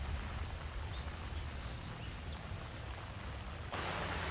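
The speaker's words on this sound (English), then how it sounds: "so glad you're here on this rainy day" Rain falls on a rainy day around a garden with chickens, a steady close hiss of pouring rain with faint bird chirps and no speech.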